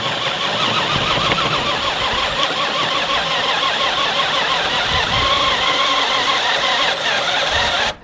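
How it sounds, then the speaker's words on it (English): A hole saw grinds a 1-inch hole through the steel base of a transmission jack adapter for a Harbor Freight floor jack, a loud, steady, continuous cutting drone with no talk, ending abruptly. "we've cut the 1 inch hole through the transmission jack adapter"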